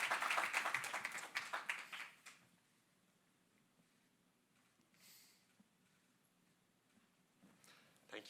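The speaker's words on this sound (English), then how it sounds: "I think we deserve another round of applause" Audience applause at a climate adaptation and low-carbon housing challenge finals event, a burst of clapping from a crowd that fades after about two seconds into quiet room noise with faint scattered claps.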